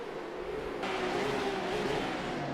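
Porsche Cup race cars lap Sebring International Raceway in iRacing, one engine droning steadily close by, then rising in pitch as it pulls hard toward the hairpin, with no talking.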